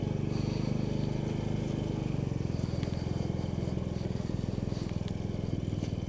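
A 150cc scooter engine idles steadily after a small throttle adjustment, giving a low, even putter close by with a few faint clicks and rattles and no talking.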